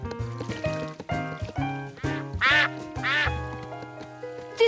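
Cartoon ducks quack in quick, bright bursts over a busy animated music score, loud and close, with a few stacked calls in a row.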